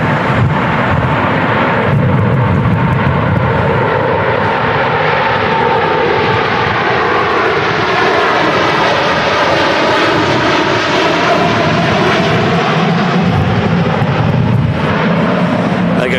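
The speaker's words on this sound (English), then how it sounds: "There goes the 2E Dreamliner blasting off" A Boeing 787 Dreamliner roars on takeoff from Manchester Airport during Storm Claudio's strong crosswinds, a loud, sustained, rising engine blast with wind rumble that fills the whole stretch.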